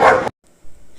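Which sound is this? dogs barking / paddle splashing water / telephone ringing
dogs barking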